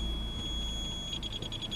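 Aftermarket audible parking sensor on a Kia Rio bumper beeping at about 30-40 cm from an obstacle, a faint rapid series of high electronic beeps over low engine rumble.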